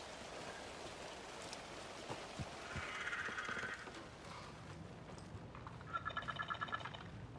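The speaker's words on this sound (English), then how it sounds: "And all I hear is birds." Birds chirp in Alan Wake 2, faint scattered twitters and a brief trilling burst heard over a steady wash of rain-like ambience, distant and soft.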